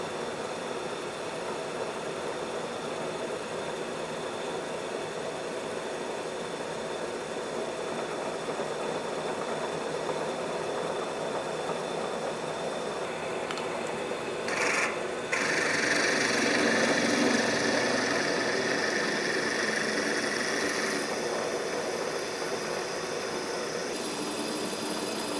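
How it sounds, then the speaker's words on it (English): A drill works a steel skid steer part, center drilling and then drilling a bolt hole, giving a steady mechanical whir and hum with a brief sharp burst midway and a slightly louder stretch after, no voices. "we'll center drill this, and then drill it and ream it also, so that we have a nice tight bolt hole"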